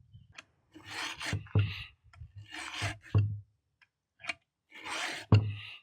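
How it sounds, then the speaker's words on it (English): Chainsaw sharpener filing chainsaw chain teeth, a series of short rasping scrapes in uneven strokes, close and crisp with quiet gaps between passes. "I'm going to go through and sharpen both sides"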